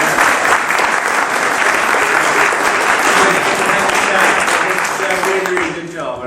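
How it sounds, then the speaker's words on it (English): Dense, sustained applause from an audience at a climate and ecological emergency hustings, loud and even throughout, fading slightly at the end. "can we give Becky a good round of applause?"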